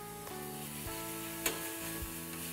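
Chopped onions sizzle in a large frying pan while a pizza is made in a wok-style pan, a steady broadband hiss with a few light clinks of utensils and a brief sharp crackle midway, no talking.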